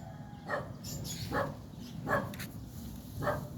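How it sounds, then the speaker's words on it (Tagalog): A dog barks outdoors in the Philippines over steady traffic-like background noise, giving four spaced barks at a moderate distance. "Oh, may aso oh."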